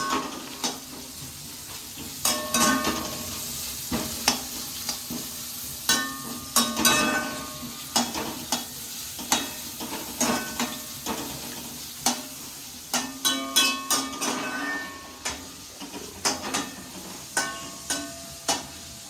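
Vegetables sauté in a hot pan with a steady sizzle while a spoon stirs and taps against the pan in frequent sharp clicks. The sound is close and there is no talking.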